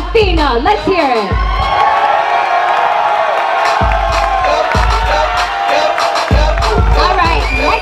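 A crowd at a car tuning competition cheers, whoops and shouts for a contestant in loud bursts, with voices and a strong, thumping low rumble breaking in between the roars.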